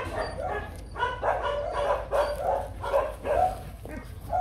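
Rottweiler puppy, about three months old, barking in a steady run of short yaps and yips, close and fairly loud, with a few whimpery notes near the end.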